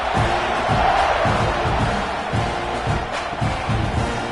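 Football stadium crowd roaring at kickoff in a college game between the Gators and Texas A&M, a dense, continuous wall of cheering and yelling that stays loud throughout.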